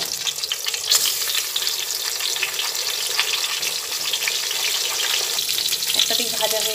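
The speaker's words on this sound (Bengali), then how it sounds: "তেল গরম হয়ে গেছে, সে অবস্থায় বেগুনগুলো তেলের মধ্যে দিয়ে প্রথমেই ভেজে নিচ্ছি" Eggplant pieces coated in turmeric and salt fry in hot oil for a Bengali radhuni begun dish, giving a steady, dense, close sizzle throughout with a few faint clinks near the end.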